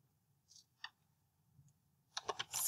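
Sparse keyboard clicks at first, then a quick close burst of several keystrokes near the end, as someone types a short entry on a computer keyboard in a quiet room.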